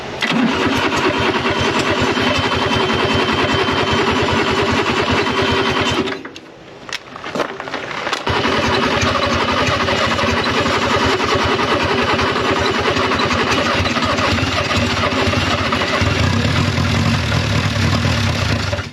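Renault engine abandoned for 54 years running after being brought back, a loud close mechanical clatter that drops out briefly, catches again and settles into a steady uneven idle.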